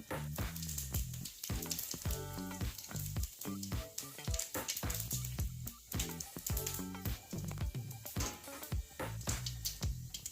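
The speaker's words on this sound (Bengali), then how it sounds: "পাঁচফোড়ন দিচ্ছি কড়াই" Panch phoron spices sizzling and frying in hot oil in a wok for a Bengali prawn, eggplant and potato curry, a loud, steady crackle with rapid popping bursts close by.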